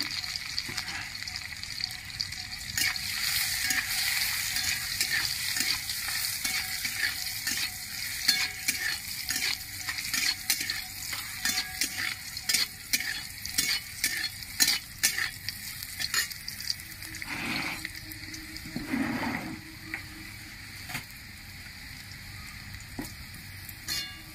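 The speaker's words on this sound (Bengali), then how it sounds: "উচ্ছেটা ভাজা হয়ে গেছে" Bitter gourd frying in oil with turmeric and salt: a constant hissing sizzle close by, punctuated throughout by quick rhythmic scraping and clinking of a spatula stirring in the pan, a couple of louder knocks near the end, no speech.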